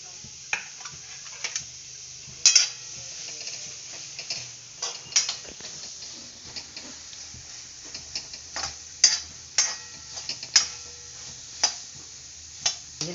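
Chopped onions in a pan, stirred with repeated sharp scraping and tapping of a utensil over a low sizzle, irregular strokes close by, with occasional brief talk.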